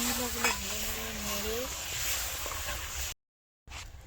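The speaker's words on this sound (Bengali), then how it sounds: "রোস্টের জন্য যে মশলাটা গুলে রেখেছিলাম ওই মশলাটা তেলের মধ্যে ছেড়ে দিচ্ছি" Spice paste for a cauliflower roast sizzles in hot oil as it is stirred, a close, steady frying hiss with soft scraping and a faint tonal hum, cut briefly by a gap of silence.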